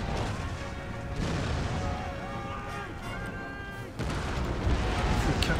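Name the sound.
musket lines firing in Empire: Total War video game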